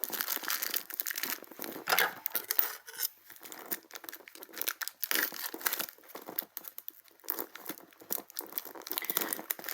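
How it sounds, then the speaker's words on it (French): Packaging from a Noz discount-store haul is torn open and unwrapped up close, with continuous crinkling, crackling and ripping of plastic and paper and no voices. "Je vous déballe tout en direct."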